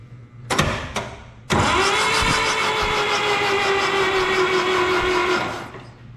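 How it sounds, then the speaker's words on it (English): A 1972 Allis Chalmers M65 road grader engine cranks sluggishly on a nearly dead battery, with two short attempts followed by one long, loud, steady spell of labored turning over that never catches. "Battery's real dead, but it's turning over"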